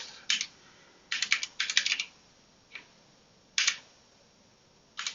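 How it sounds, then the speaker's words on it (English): Typing on a computer keyboard, close and crisp, with scattered bursts of rapid key clicks separated by short pauses and a few single taps. "I've got this crazy keyboard, which means I can barely type anything."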